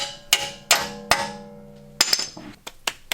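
Repeated metallic hammer strikes in a video game, spaced unevenly, each with a bright ringing decay, followed by a quicker cluster of lighter taps.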